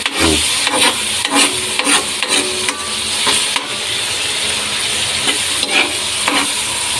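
Vegetables sauté in a pan, loud and close, with a steady sizzle broken by repeated scraping strokes of a wooden spatula, roughly one or two per second.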